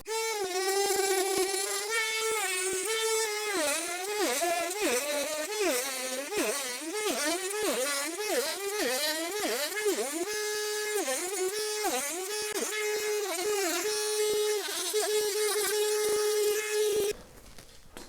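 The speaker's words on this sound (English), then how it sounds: "we'll have room for our Dremel and our bit to move along this edge, and we can kind of make a rounded cut" A Dremel rotary tool cuts a rounded edge along a 4Runner Limited rocker panel, a loud, steady, high-pitched whine whose pitch dips and recovers over and over as the bit meets the metal, then stops abruptly near the end.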